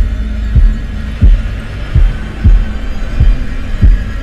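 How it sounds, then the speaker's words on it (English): Slow, steady heartbeat from the video game Man of Medan, with six deep thumps spaced under a second apart over a low droning hum. No one speaks. "The heartbeat."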